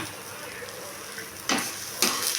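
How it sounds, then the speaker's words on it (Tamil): Dried red chillies, garlic and chana dal are sautéed in a pan with a steady close sizzle, and two sharp scraping stirs of a spoon against the pan cut through near the end. "எல்லாத்தையும் போட்டு நல்லா ஒரு வணக்கிடலாங்க."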